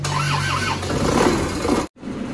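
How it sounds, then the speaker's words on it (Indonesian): A Panther pickup's diesel engine cranks and catches, a loud, rough, steady mechanical roar that cuts out abruptly for a moment and then returns as a quieter idle. No one talks. "ini mesinnya sudah hidup"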